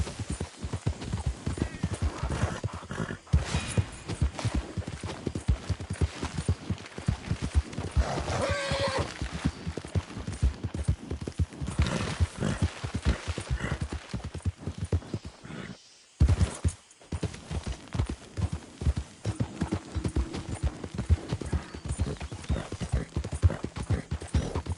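A horse gallops in Red Dead Redemption 2, its hooves drumming in a fast, continuous clip-clop with brief whinnies and a short pause near the end.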